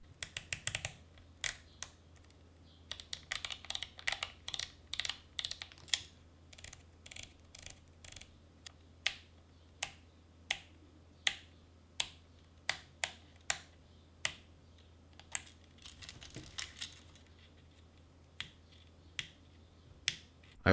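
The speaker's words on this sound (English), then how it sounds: "All the markings on the dials are engraved, not painted, and they really make reassuring sounds when used." Sharp metallic clicks from the engraved aluminum dials of an Olympus PEN F camera being turned, arriving in quick bursts and then as a steady series of separate detent clicks, close up and crisp against a quiet background with no talking.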